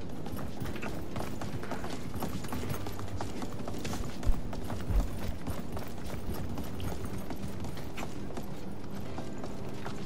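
Horse hooves clip-clop steadily in the fantasy battle royale game Realm Royale, a continuous rhythmic trotting with faint mechanical clatter, moderately loud and without speech.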